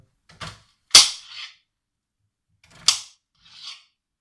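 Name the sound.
knife slicing through food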